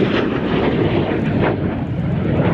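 A propeller airplane flying a slow roll down the display line at an evening air show, its engine a steady loud roar with rushing wind noise and no pauses.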